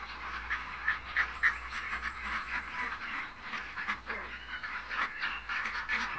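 Ducks with a drastically reduced appetite quack at a farm feeding spot, a cluster of repeated nasal calls rising close and clear over steady background noise, with no talking.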